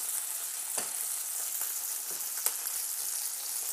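A homemade beef burger fries in a pan beside onions, giving a steady close sizzle with a few sharp pops and spits.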